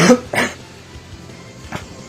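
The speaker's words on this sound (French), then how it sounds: "Je fais que tousser, ça saoule un peu" Two short coughs close to the microphone, followed by a softer third cough after a brief pause.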